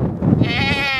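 A person imitates a sheep with one short, wavering, nasal bleat, close and fairly loud, lasting about a second.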